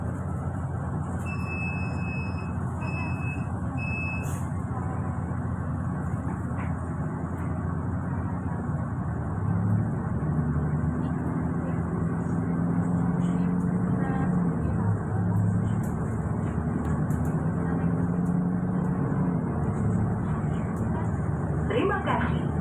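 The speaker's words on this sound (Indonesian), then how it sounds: "bus bisa berangkat untuk rute yang selanjutnya" A Trans Semanggi Surabaya city bus pulls away from a stop in Surabaya, its engine a steady low rumble that swells and strains as it gathers speed, heard from inside alongside a few brief high beeps, with a voice talking over it.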